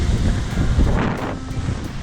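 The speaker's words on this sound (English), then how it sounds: "It's pretty darn windy." Strong wind blows on Lake Chelan during a camping and Hobie sailing trip, a loud continuous rumbling buffet across the microphone with no talk.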